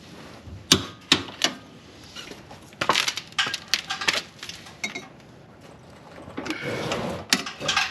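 Ratcheting torque wrench tightening the lower rear shock bolt on a Honda Civic: a series of sharp metallic clicks and clunks in irregular bursts, fairly close, followed by a rougher grinding stretch.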